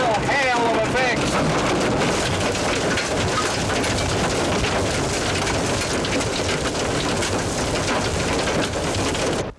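Hail pounds down in a storm in the Badlands, a dense, steady roar of hard pellets striking surfaces close by, loud and unbroken from start to finish.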